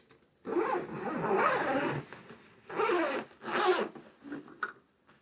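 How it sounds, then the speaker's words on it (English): Zipper on an instrument case pulled in several long strokes, a close, raspy zip followed by shorter tugs and a final quick pull, with no talking. "you're going to zip both zippers"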